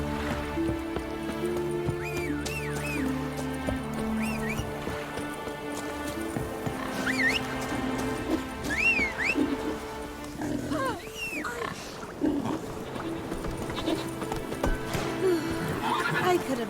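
Roach, a horse in The Witcher 3 video game, gallops with steady clip-clop hoofbeats while whinnying and neighing several times, the calls rising clearly over the hooves amid a continuous game soundscape.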